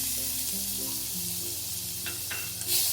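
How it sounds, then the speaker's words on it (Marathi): Curry leaves dropped into hot oil with a ground paste of green chillies, garlic, coriander seeds and cumin, giving a loud close sizzle with a brief stir and a sharp crackle near the end. "थोडासा कढीपत्ता टाकलाय परतून घेऊ"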